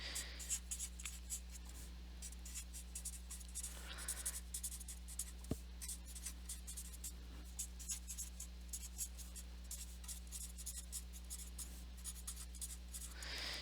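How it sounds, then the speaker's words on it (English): Pen or pencil writing on paper while sketching for an art lesson, a quiet steady scratching of short strokes in a hushed room with a low electrical hum underneath. "Okay, so I'm going to write that down."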